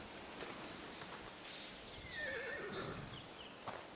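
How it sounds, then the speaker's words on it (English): Horses whinny in A Plague Tale: Requiem, a high neigh rising then falling mid-clip over a steady ambient bed, with a faint second call near the end and soft hoof-like movement. "Horses!"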